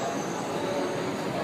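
A train runs through an underground MRT subway station in Singapore, a continuous broad rumble with faint high wheel squeal, steady and fairly distant throughout.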